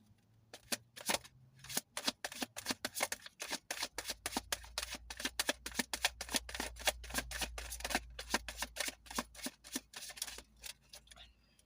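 Tarot cards being shuffled by hand in rapid bursts of crisp riffling clicks, close up, with a few short pauses between runs and a faint low hum underneath.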